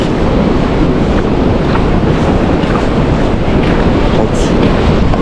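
Rough sea waves crashing and surging continuously, loud and close, with heavy wind rumble across the microphone throughout.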